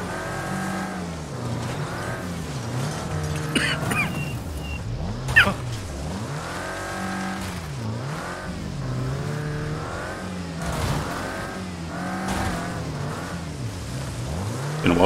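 Stock cars race and drift in the video game Wreckfest on a figure-eight track, with continuous droning engines rising and falling through gear changes, occasional tire squeals and a sharp crash thump, all loud and without talk.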